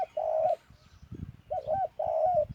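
A spotted dove coos nearby, a tonal multi-note call repeated in phrases, clear and moderately loud, with faint low rustling and thumps in the gaps.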